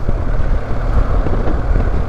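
Motorcycle rattling over small potholes, a loud continuous rumble with rough low-end jolts and vibration heard up close throughout.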